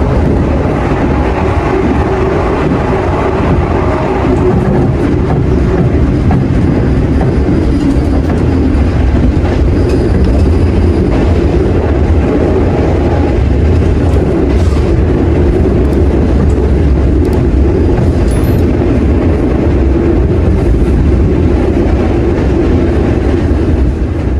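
Argo Sindo passenger train running on rails after departing Semarang Tawang station, a steady loud interior rumble with continuous low wheel and track noise and faint clatter throughout, no voices.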